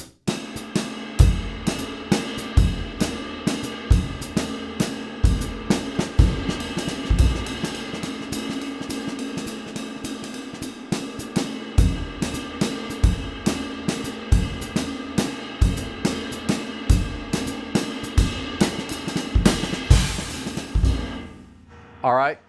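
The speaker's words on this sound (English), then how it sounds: "I'm mirroring the phrase with the snare and the bass drum" Jazz drum kit with snare and bass drum hits mirroring a three-bar phrase over a steady ride cymbal, loud and close with a regular rhythmic pulse, ending in a brief sustained cymbal wash.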